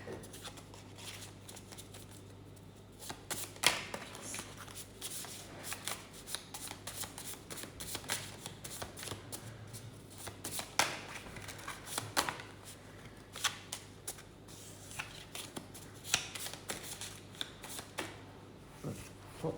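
Playing cards riffled, shuffled and dropped in a deck-clearing session, a steady patter of crisp card flicks and slaps with sharper bursts scattered throughout, close and fairly quiet over a low steady hum.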